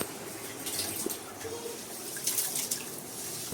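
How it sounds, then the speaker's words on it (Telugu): Half a kilo of rice is rinsed in water in a kitchen, soft sloshing and trickling that comes and goes in small splashy bursts at a faint, close level. "రైస్ అయితే శుభ్రంగా ఒకటికి రెండు సార్లు వాటర్ వేసి శుభ్రంగా"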